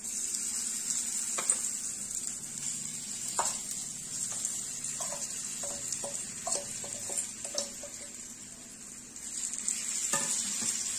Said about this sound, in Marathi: आपल्याला हे शॅलो फ्राय करून घ्यायचे आहे